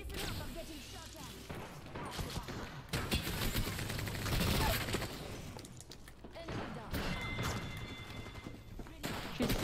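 Bursts of gunfire from the video game Apex Legends crackle in rapid volleys with thuds and impacts, loud and dense in stretches, broken by short lulls, while a player talks over parts of it.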